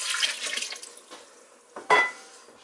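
Water from a can splashes into a pot of vegetable bean soup, a short burst of pouring at first, then quieter trickles and a final sharp splash, heard close.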